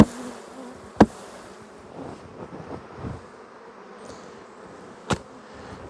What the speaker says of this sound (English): I'll just bang some bees off here.